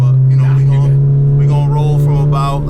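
A modified Volkswagen Golf GTI drives at about 40 mph, its engine giving a strong, steady low drone that rises slightly as it pulls, with people talking inside the car over it.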